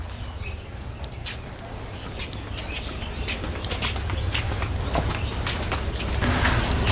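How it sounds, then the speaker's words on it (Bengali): Birds chirp at a resort in short, high, scattered calls over a steady low outdoor rumble, fairly distant, with no one talking. "আর পাখির কিচিরমিচির শব্দ যার কারণে জায়গাটা বেশ ভালোই লাগতেছে আমার কাছে"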